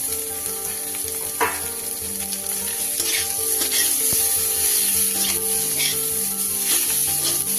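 Vegetables and egg stir-fried together in a pan with ginger and garlic for a mixed fried rice dish, giving a steady close sizzle with scraping and stirring clatter throughout, no talking.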